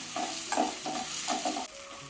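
Crushed spices frying in hot oil in a pan for rasam, a continuous sizzle broken by several scraping stirs of a spoon against the pan, close and moderately loud with no talking.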